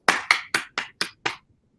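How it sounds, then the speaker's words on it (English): Six separate hand claps, spaced about a quarter-second apart and fading gradually, in a virtual stage event; the claps are close, crisp and not accompanied by any talk. "give you a warm round of applause"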